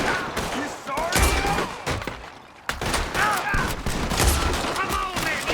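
Rapid volleys of gunfire from a Red Dead Redemption 2 shootout, loud, dense and continuous, with sharp cracks and thuds overlapping throughout, a brief dip midway before the shooting resumes, while a voice shouts over the din.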